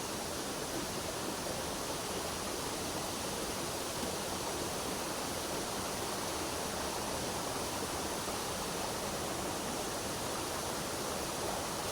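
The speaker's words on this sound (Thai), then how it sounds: "ชมน้ำตกไปบางทางก่อนครับ" A waterfall at Bo Wi rushing without pause, a dense, even roar of falling water that fills the whole stretch, loud and close with no voices.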